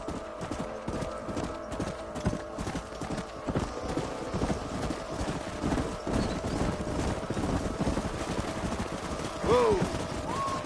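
Horses' hooves clop in a quick, steady trot in Red Dead Redemption, loud and close, with a brief whinny near the end.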